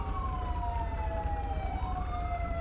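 An ambulance siren in GTA 5 wails with slow, gliding rising and falling tones, moderately loud over a steady rumble of road and engine noise.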